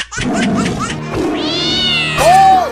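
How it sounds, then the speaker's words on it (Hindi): Cartoon cats meowing loudly in a string of close, drawn-out yowls, several voices overlapping, with no talk over them. "बिल्लियों छोड़ो, बंद करो नोचना।"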